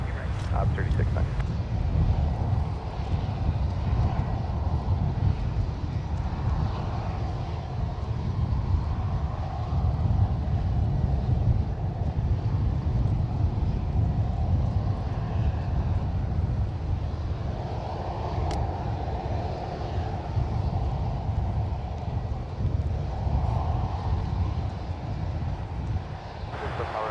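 Aircraft landing at San Francisco International Airport, a steady distant jet engine roar sustained throughout, with air traffic control radio voices talking over it.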